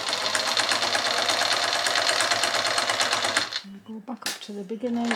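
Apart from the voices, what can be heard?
sewing machine stitching quilt along presser foot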